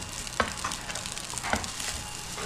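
Fried rice with garlic frying in a pan: steady close sizzling with a few clinks and scrapes of stirring, moderately quiet, no talking.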